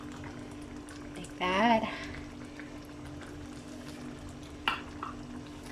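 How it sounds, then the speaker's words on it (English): Pav bhaji simmers in a pan with a low, steady bubbling murmur and a constant background hum, while a voice speaks briefly near the start. "we will just leave it, simmer it, and let it cook for 3 to 5 minutes"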